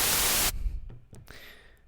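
A synthesizer's noise-generator oscillator hisses as loud, bright white noise for half a second before cutting off abruptly, leaving only faint background clicks.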